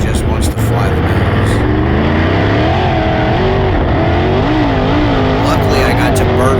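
A race car at a dirt-track Outlaws event runs loud and close, its engine pitch climbing and falling in wavering revs as it drives onto the track; a voice talks over the steady roar.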